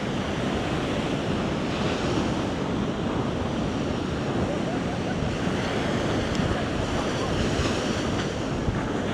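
Ocean surf washes steadily onto a beach in Crete, a dense continuous roar of breaking waves with wind rushing across the microphone throughout.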